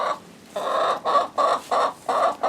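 Chickens in a pen cluck in short repeated bursts, close and fairly loud, with brief pauses between calls.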